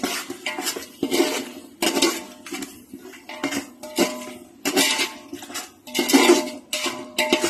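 A spoon stirs mutton biryani masala with garam masala, chilli powder and turmeric in a metal pot, for seeraga samba biryani. It gives close, loud, repeated clanks and scrapes in an uneven rhythm, with no talking.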